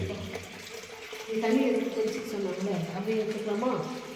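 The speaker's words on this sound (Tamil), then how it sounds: "ஜலநாதேஸ்வரர் கோவிலில் நந்தி வாழை தண்ணி வருது" Water flows from a Nandi statue at the Jalanatheeswarar temple, a soft continuous trickle beneath a voice speaking throughout.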